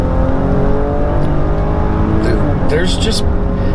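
A 2020 Cadillac XT5 Sport SUV engine roars steadily under full-throttle acceleration from a stop, a loud continuous drone with a voice talking over it throughout.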